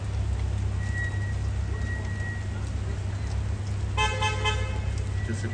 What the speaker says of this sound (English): if he doesn't move, they're gonna start honking at him